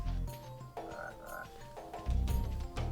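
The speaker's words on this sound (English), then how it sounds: "Listen to the frogs. This is a very summery game." Frogs croak in the Klonoa video game, a rhythmic chorus of low throaty croaks repeating over a summery night ambience, loud and close, with no voices.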